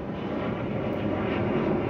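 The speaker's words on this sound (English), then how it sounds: "another airplane" A fixed-wing airplane passes overhead, its broad, steady engine roar filling the full two seconds at a constant, fairly loud level with no voices.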